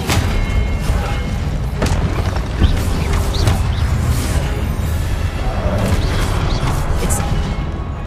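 Spell effects from a Hogwarts video game burst out in quick succession, heavy booms, crashes and whooshing impacts piling over a constant rumbling bed, loud and busy throughout.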